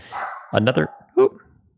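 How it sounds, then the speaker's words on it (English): A dog barks several times close by, a quick cluster of yaps followed by one more bark, with a voice faintly in the background. "Dog's going crazy, guys."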